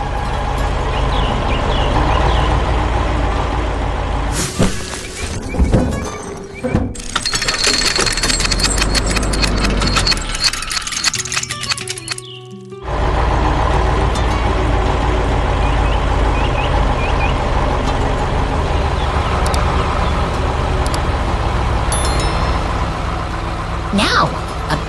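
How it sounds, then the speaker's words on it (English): A big green dump truck carrying a heavy load at a construction site rumbles past: a loud, deep engine drone with reversing beeps, a brief drop-out partway through, and a voice speaking at times. "a big green dump truck rumbles by, carrying a heavy load to keep the construction moving forward"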